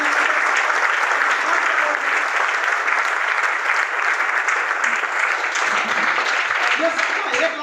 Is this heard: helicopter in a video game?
no